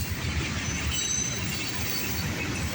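A southbound mixed freight train hauling massive tank cars rolls past, a continuous loud rumble of wheels on rail with faint metallic squeals and clinks, and no voices.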